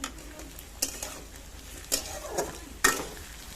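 Onions fry in a pan until golden brown, a quiet, soft sizzle broken by several sharp clacks and scrapes of a spoon stirring against the pan.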